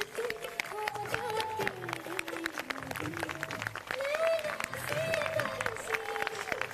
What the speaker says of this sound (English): Albir and Mandeep clap enthusiastically